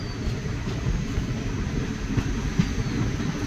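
The Malda-Howrah Intercity Express pulls into New Farakka Junction, a steady low rumble of wheels and carriages that stays close and even for a few seconds, with no talking.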